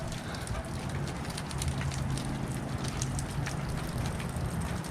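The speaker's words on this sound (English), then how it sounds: "All right, well, rain happened." Steady rain falls in Florida, a continuous hiss of patter on surfaces with scattered sharper drop ticks throughout and no voices.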